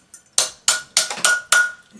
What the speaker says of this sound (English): we're going to form it around a bracelet mandrel. We'll just use a round one and a rawhide hammer.